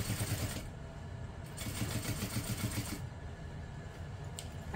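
A sewing machine runs steadily while top stitching along the seam of a small apothecary handbag, its rapid needle chatter continuous and close, with brief pauses and no talking.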